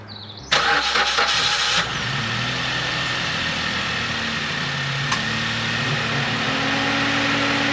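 An Opel Agila's engine cranks briefly and catches, then settles into a steady, close idle with a low rumbling tone and no voices.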